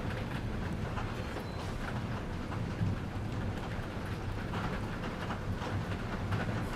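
Rain patters steadily against a window, a dense continuous hiss with a low rumble underneath, fairly quiet and unbroken throughout.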